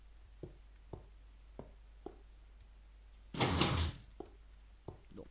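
In the Minecraft video game, a run of soft, evenly spaced footstep-like taps leads into a louder wooden door creak-thud lasting about half a second. A few more quiet taps follow.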